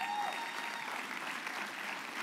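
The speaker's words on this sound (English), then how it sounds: "you should clap" Church congregation applauding during a sermon, a soft, even wash of distant clapping from a large room, with no individual claps standing out.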